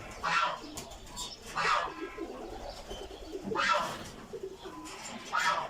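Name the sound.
pigeons cooing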